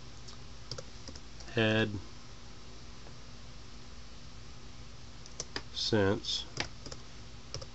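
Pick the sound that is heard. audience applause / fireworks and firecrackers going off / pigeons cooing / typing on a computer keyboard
typing on a computer keyboard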